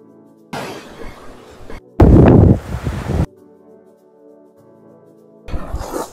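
Gusty wind at Playa Sotavento, Fuerteventura, buffets the microphone in loud, rumbling bursts, with short quieter gaps between the gusts.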